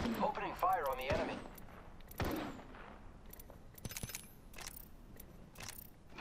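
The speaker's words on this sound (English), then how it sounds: "Opening fire on the enemy." Scattered gunfire in the Apex Legends battle royale shooter: several sharp, separate shots spread across the stretch, sitting under and between bursts of speech at a moderate, fairly distant level.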